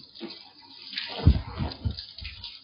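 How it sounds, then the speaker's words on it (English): Apron rinsed under running tap water, a short close splashing and gurgling burst that swells in the middle and then fades. "Rinse my apron off."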